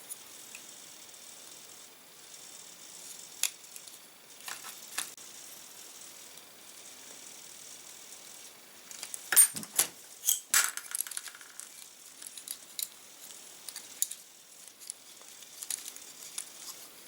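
A sharp razor blade slices off excess material in faint, close scraping and ticking cuts, with a brief cluster of crisper snicks partway through against near silence.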